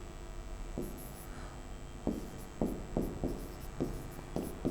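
Pencil or chalk writing letters again on a surface after erasing, with short scratchy strokes in an irregular rhythm, fairly close and quiet, with no talking.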